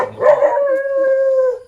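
A dog howls once in a long, drawn-out tone that starts rough and settles into a steady, sustained note before fading, loud and close, with no talk over it.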